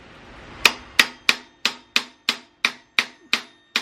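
Hammer tapping on a trike's rear end bearing, about ten sharp, evenly spaced metallic knocks in a steady rhythm, close and fairly quiet, with no talking.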